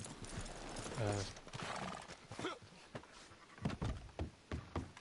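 Horse hooves clip-clopping on a mount in Red Dead Redemption Online, with a whinny, heard under intermittent speech and game sounds; steady rhythmic footfalls through the clip.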